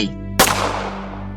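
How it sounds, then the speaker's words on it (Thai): A single loud gunshot cracks out and rings into a long, fading echo over a steady low drone. "เสียงปืนดังก้องกังวานทั่วบริเวณ"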